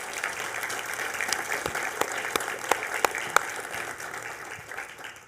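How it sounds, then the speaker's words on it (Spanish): An audience at a church talk by a bishop applauds a man, steady close clapping from many hands with sharp individual claps standing out, lasting the full five seconds. "un aplauso para él"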